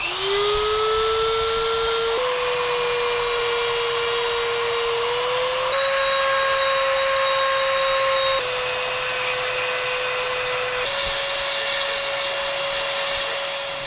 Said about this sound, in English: So I'm gonna cut the liner of the knife so that the head of the screwdriver will clear